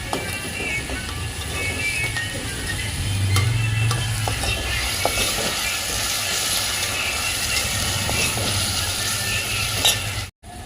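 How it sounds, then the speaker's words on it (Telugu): Onions and ginger-garlic paste frying for a liver curry base, a loud, steady sizzle with the scrape of stirring, close and continuous, cutting out briefly near the end. "ఆనియన్ అన్ని ఫ్రై అయినాక అల్లం వెల్లుల్లి పేస్ట్ వేస్తాం."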